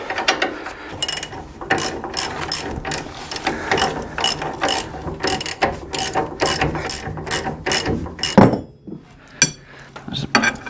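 Ratchet wrench clicking in quick repeated bursts while tightening a shock bolt on a Dakota pickup, close and fairly loud, with brief pauses between strokes.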